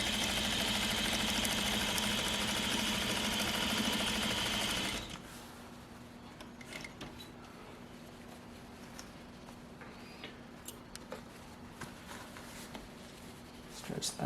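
A sewing machine stitches fabric for pajamas in one steady, fast-running burst of about five seconds, then stops, leaving quiet handling of fabric and small clicks.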